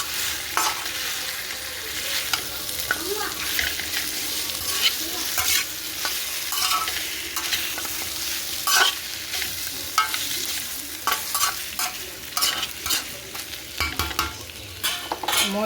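Tough, pre-boiled mutton pieces fry in a pan, giving a steady close sizzle for the whole stretch with frequent scraping stirs of a utensil and a few clinks.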